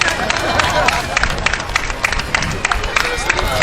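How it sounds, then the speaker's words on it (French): A parade crowd at the Festival de Cornouaille grand défilé, with steady applause and scattered clapping rolling on under a continuous hubbub of voices and outdoor bustle. "On applaudit bien fort nos amis de Saint-Évarzec."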